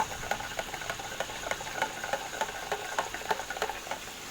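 Salt being stirred into water while preparing tekwan fish dough, a steady run of light scraping and clinking strokes in a rhythmic pattern, close and fairly quiet with faint background hum.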